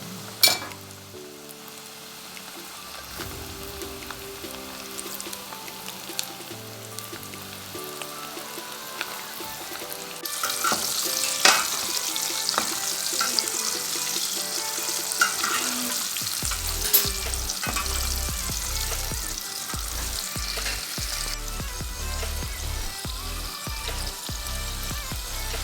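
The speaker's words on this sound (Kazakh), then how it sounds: "Кабачкиімізді қызып тұрған майға екі жағынан қызарғанша қуырып аламыз" Zucchini slices frying in hot oil, a continuous crackling sizzle that grows louder partway through, later joined by clattering stirring and scraping strokes; no one speaks.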